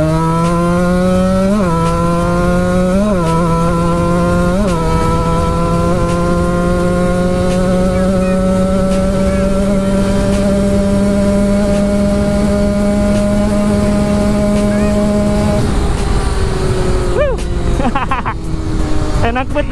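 A two-stroke motorcycle rides down a sloping road, its engine pitch rising sharply through several gear changes and then holding a high, steady buzz, loud and close, before backing off near the end.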